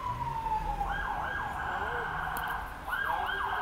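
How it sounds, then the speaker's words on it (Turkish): Wailing ambulance siren at a street protest in Istanbul, sweeping up and down in pitch as it draws closer, loud over a steady background of crowd and traffic rumble. "Ambulans geliyor ama herhangi bir problem yok."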